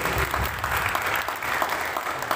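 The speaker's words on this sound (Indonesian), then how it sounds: "Kita kasih tepuk tangan dulu ya Bapak Ibu guru." Audience applause for teachers at a preschool working group's book launch in Paniai, steady moderate clapping from a seated crowd throughout the short clip.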